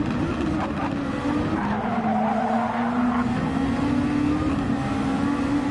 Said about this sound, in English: I think a car just went around